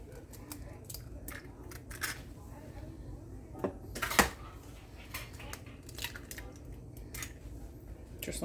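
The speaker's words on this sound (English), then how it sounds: "get a bowl and you're going to crack your eggs" Eggs cracked into a bowl in a kitchen, several short sharp cracks and taps with wet squishy drips, one louder crack in the middle, close and quiet amid faint handling noise.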